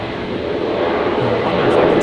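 Aircraft departing at Brisbane Airport at night, a steady broadband engine roar rising slightly over two seconds, heard from a distance.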